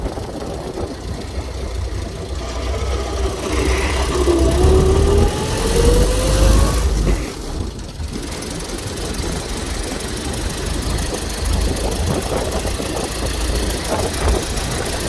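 A 1915 Ford Model T engine idles with a low, even rumble and a light knocking rhythm, close and steady throughout, swelling slightly for a few seconds as the throttle is brought down before settling again.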